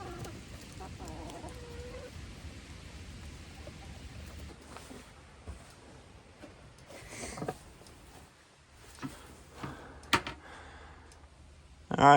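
Homestead chickens being let out of their coop give soft, scattered clucks at a moderate distance, with faint rustling and a few sharper knocks and bumps between quiet stretches.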